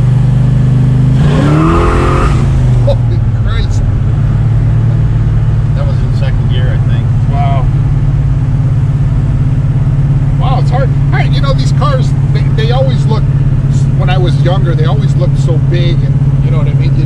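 A 1969 Pontiac Grand Prix engine idles with a steady low rumble, with one sharp rev near the start, while people talk over it throughout.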